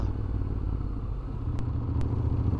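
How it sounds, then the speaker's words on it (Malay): A Vespa motor scooter coming downhill on a winding mountain road in Thailand, its engine a steady near drone throughout with two brief sharp ticks. "Ada motor Vespa turun sikit."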